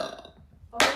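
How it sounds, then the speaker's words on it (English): A child lets out a single loud, close burp near the end, after a stretch of quieter room sound with faint background voices. "Do the burp talk."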